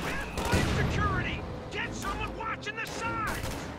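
Video game gunfire aimed at a half-track, a scattered crackle of shots and small booms running beneath a commentator's continuous voice.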